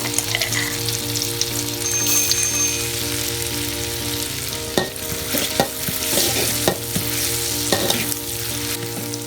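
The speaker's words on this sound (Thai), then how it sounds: "นำพริกกับกระเทียมที่เราตำไว้ใส่ลงไปผัดให้สุกหอม" Steady, loud sizzling of pounded chili and garlic stir-frying in hot oil in a wok, with occasional scraping and clanking as it is stirred; no voices.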